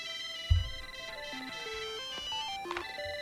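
A cell phone ringtone in a cartoon pilot plays a bright, stepping electronic melody that runs steadily for about three seconds, opening just after a short low thump.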